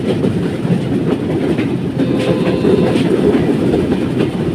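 A train travelling on rails, heard from on board as a continuous loud rumble with a soft, repeating clickety-clack running steadily throughout and no voices.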